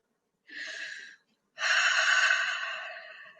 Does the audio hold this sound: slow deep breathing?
yes